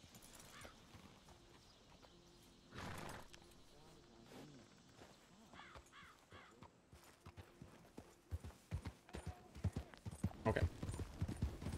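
A horse in the video game Red Dead Redemption 2 moves from a walk into a gallop, its hoofbeats speeding into a rhythmic clip-clop that grows louder toward the end. A short snort and a neigh come through, and a voice speaks briefly over the hooves.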